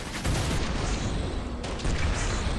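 A quarter pound cannon fires in the Killing Floor 2 video game, a heavy booming blast with a dense, roaring wash of game noise around it, loud and continuous.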